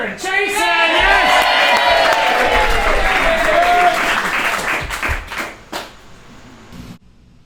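A studio audience claps and cheers loudly for a talk-show guest, with whoops in a sustained burst. Voices call out over the crowd, and the noise thins into scattered claps and talk before cutting off.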